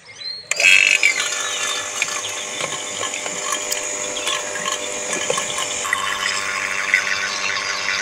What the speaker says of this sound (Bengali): এবার ভ্যাকুম মেশিন চালু করছি।